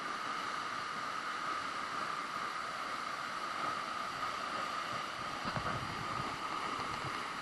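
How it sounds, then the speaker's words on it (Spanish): Steady broadband rush of a waterfall in a forest, the Monster Waterfall near Millares, Valencia, heard as continuous even water roar with no pauses or voices. "La cascada del monstruo, el señor del bosque."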